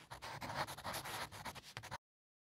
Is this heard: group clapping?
no